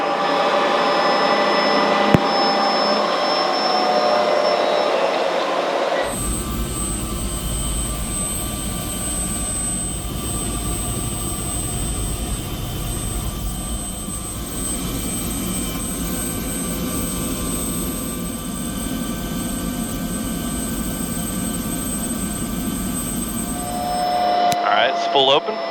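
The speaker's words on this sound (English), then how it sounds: "Helicopter 882 Kilo Papa is coming up to a hover" A small helicopter in a remote relief landing area runs its engine up toward a hover, a steady loud whine and turbine roar with a rumbling throb, while a voice talks over the radio.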